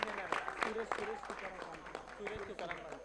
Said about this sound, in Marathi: टाळ्या वाजत राहू द्यात